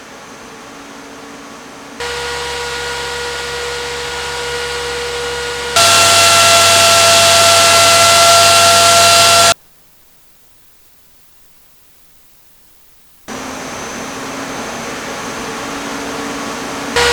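A Gelid Gale Extreme 6000 RPM case fan blows a steady broadband whoosh with faint tonal whine, shifting between distinct speed levels, nearly cutting out for a few seconds, then spinning back up, loud and close with no talking.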